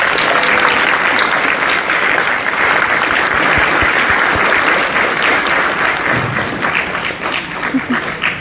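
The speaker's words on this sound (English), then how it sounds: "Big round of applause." A Comic Con convention audience gives a big, loud, sustained round of applause for two stars of the show, dense clapping filling the room for the whole stretch and tapering slightly at the end.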